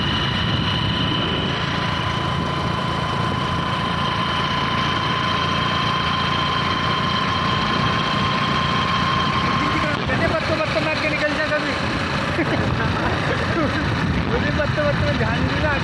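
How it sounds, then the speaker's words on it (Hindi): A motorcycle engine runs steadily while being ridden on a road, a continuous droning hum with a constant tone, then rougher and more varied toward the end, with traffic noise around it. "प्रियांश चला रहा है बाइक"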